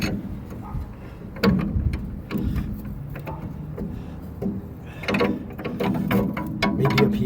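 End wrench turning a nut on a 1965 Ford Thunderbird: faint, uneven metallic ticks and clicks in small bursts against a low background hum, close by, with no talking.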